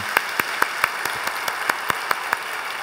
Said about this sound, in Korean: 우리 한번 격려와 또 축복의 박수 한 번 더 보내겠습니다.